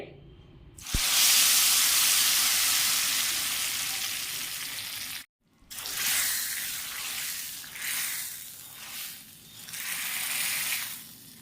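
Loud crackling sizzle as tempering spices hit hot oil for dal, fading gradually, then a brief pause followed by renewed bursts of hissing and spattering.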